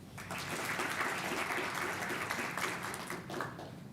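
Audience applause for award winners at a 2021 School of Science and School of Continuing and Professional Studies commencement ceremony, a full, sustained round of clapping from a large crowd that swells and then starts to fade near the end.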